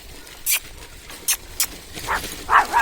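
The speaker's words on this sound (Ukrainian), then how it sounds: "злий собака якийсь" A dog barking in a village street, a few short sharp barks spaced apart at a moderate distance, followed by louder yelping or whining calls near the end.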